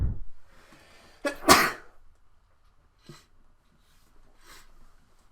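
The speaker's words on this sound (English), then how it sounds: "I don't know if you guys heard me sneeze" A single loud, sharp sneeze bursts out close by after a quiet stretch, followed by a couple of faint, brief sniffs or breaths.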